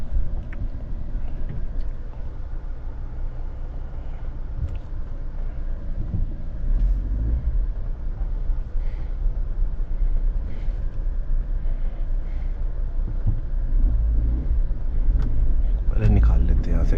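A Maruti Suzuki Jimny 5-door drives along with a steady low engine and road rumble throughout, broadening slightly near the end, with a person talking over it.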